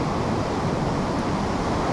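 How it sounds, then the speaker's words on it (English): Surf washes steadily onto the sand at Fraser Island's beach, a broad continuous roar mixed with wind buffeting the microphone. "Waves coming out now"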